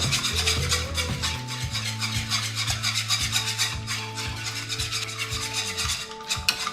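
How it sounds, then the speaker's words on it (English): Whisk rubbing and rasping steadily in a bowl of Caesar salad dressing as olive oil is slowly drizzled in, a continuous close scraping texture with regular strokes, a low steady hum underneath. "So we just continue to whisk and slowly add some oil."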